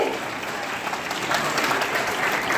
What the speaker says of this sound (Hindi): जोरदार तालियों के साथ सर का स्वागत है